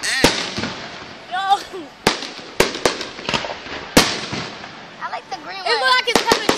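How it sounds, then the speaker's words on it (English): Fireworks burst at a 4th of July show near a Phillies ballpark, sharp bangs and crackles landing at irregular intervals, some loud and close, while people chatter and exclaim excitedly throughout. "I like those fireworks."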